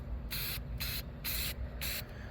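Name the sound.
spray painting primer on a model rocket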